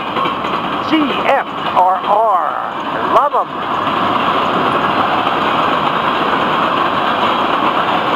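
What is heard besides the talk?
freight train wheel clatter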